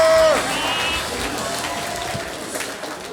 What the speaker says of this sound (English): And one more big round of applause, Eric Asker!